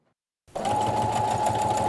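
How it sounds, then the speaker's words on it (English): A home sewing machine starts abruptly after a moment of silence and then runs at a steady, loud, even whir, stitching continuously without pause. "Stitched on her home sewing machine, personalized for you."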